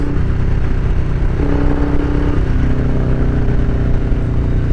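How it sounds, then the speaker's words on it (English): A 2020 Harley-Davidson Street Bob engine while riding in third gear at about 60: a loud, continuous low rumble with wind noise and a brief rise in pitch midway, heard close and without talk. "Yo, this bike is super fast."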